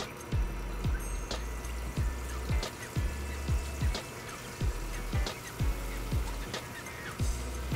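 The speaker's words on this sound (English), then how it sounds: "I just dipped the tortilla back and forth in the salsa and then pouring it into the" Salsa trickles and splashes steadily into a frying pan, with a run of soft wet drips and plops repeating about every half second throughout, fairly close.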